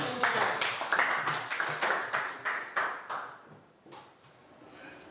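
An audience clapping hands together in a classroom, a burst of brisk, uneven applause that rises quickly, carries on for about three seconds and then fades into quieter scattered claps.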